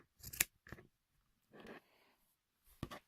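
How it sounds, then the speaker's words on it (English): Scissors snip through a yarn pom-pom in three or four crisp, close cuts with short pauses between them. "you can cut around the circle like that"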